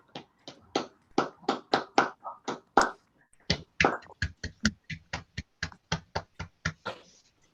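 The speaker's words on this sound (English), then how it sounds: "can everyone please unmute yourself so we can applaud and thank Ellen for reading" Online audience members clap through unmuted microphones after a poetry reading, giving sharp, separate claps in an uneven, sparse rhythm that sounds close and isolated rather than blended into a crowd.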